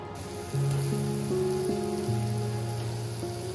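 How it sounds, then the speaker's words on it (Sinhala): Green chilli, ginger and garlic fry steadily in hot oil for a Sri Lankan jackfruit curry, a continuous close sizzle beneath a faint held musical tone. "දැන් අපි මේ ටික තෙල් වලින් හොඳට බැදගමු."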